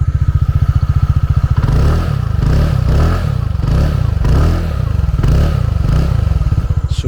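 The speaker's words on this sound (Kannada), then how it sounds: "ಸೊ ಈ ರೀತಿ ಇದೆ ಇದರ ಟಿಪಿಕಲ್ ಎಂಟಾರ್ಕ್ ಎಕ್ಸಾಸ್ಟ್ ನೋಟ್" A TVS Ntorq 150 scooter idles close by with a rapid, even exhaust putter that shifts to a deeper, pulsing throb as the throttle is blipped in short bursts, then settles back to a steady idle.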